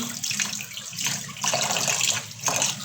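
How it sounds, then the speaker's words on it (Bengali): Running tap water splashes steadily over cut pomfret fish being washed in a sink, a continuous close rushing with slight swells, no voices. "রূপচাঁদা মাছ কেটে ধুয়ে নিচ্ছি"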